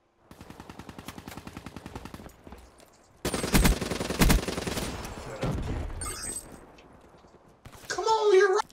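Assault rifle gunfire in Black Ops 3, rapid automatic bursts in short clusters separated by pauses, mixed with game effects and a player's voice.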